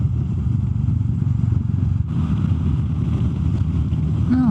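A Royal Enfield Meteor 350 motorcycle cruises on an open road at around 100 km/h, giving a steady low engine drone under constant wind rush.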